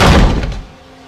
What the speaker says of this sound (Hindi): इस गेस्ट हाउस के मेन डोर के बंद होने की।